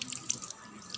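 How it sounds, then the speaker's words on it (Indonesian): Running tap water splashing steadily into a sink, with brief bright splatters as hands move under the stream, close by. "membilasnya pada air mengalir"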